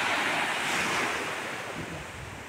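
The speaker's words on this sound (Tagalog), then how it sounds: "Ayan, bumubula-bula ang dagat." Sea waves foam along the shore at Morong, Bataan on a morning walk, a broad wash of surf with gusting wind across the microphone, steady then easing slightly, with no voices.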